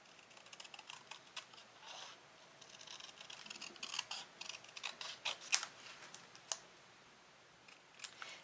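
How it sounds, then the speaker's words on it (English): Scissors snipping through cardstock while cutting a middle segment from a Halloween jack-o'-lantern card, a run of close, crisp, irregular clicks and snips in a quiet room. "I'm going to be cutting out this middle segment."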